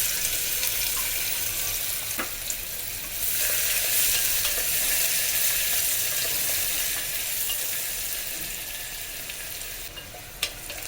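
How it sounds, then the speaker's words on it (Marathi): Finely chopped medium onion frying in hot oil, a steady broadband sizzle that holds throughout with a slight swell midway and a few faint clinks of a utensil stirring in the pan. "मीडियम साईजचा एक कांदा बारीक कापून घेतलेला आहे तो आपण तेलामध्ये भाजून घेऊ"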